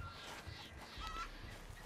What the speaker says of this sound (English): What's up, little chickens? Well, all of them chickens.